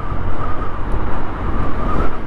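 Vespa GTS300ie Super scooter cruising at around 50–55 in city traffic, a steady low engine drone mixed with continuous road and wind rush, loud and close throughout.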